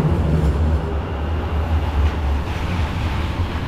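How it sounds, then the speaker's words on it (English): A tram rolls past on a wet street in hilly Sheffield town centre, a loud, steady low rumble and roar filling the whole few seconds with no speech over it. "That is a tram."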